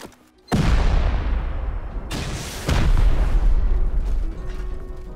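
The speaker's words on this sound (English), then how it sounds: "C4 this stone wall? Yeah, do that." A C4 charge detonating against a stone wall in a shooter game: a sudden loud blast followed by a long rumbling roar, then a second heavy boom rolling on as debris settles.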